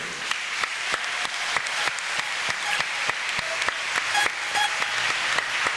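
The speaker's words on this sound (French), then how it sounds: "Et on applaudit tout le monde, s'il te plaît" An audience applauds through the whole stretch, with dense, steady clapping and some sharper individual claps standing out, all fairly close and even in loudness.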